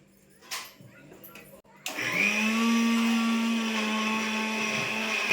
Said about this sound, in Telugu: మిక్సీ పట్టుకుంటున్నారు గ్రేవీ కోసం